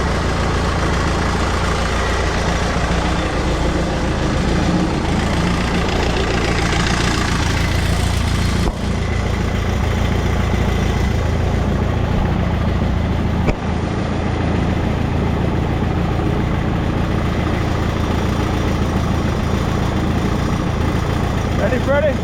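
A Minneapolis Moline GTB tractor engine runs steadily at a loud, close idle-like drone throughout, with a brief knock partway through and people talking nearby.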